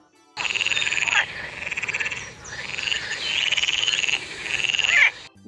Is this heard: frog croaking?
yes